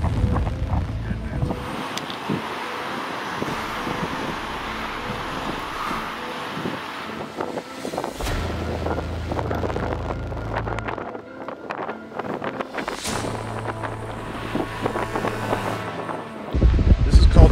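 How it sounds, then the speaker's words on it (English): Strong wind sweeps a beach at Deadman's Cove on the Washington coast, roaring and buffeting the microphone in continuous loud gusts with low rumbling surges throughout. "boy, the wind is nasty"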